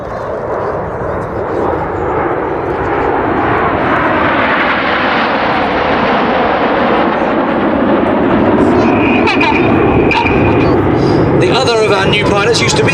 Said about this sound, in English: the Royal Air Force's multi-role combat aircraft, the Eurofighter Typhoon